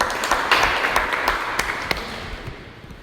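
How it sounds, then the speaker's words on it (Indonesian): A university mechanics class applauds a student, producing a dense wash of clapping from a small group that fades out over a few seconds. "tepuk tangan buat Floren"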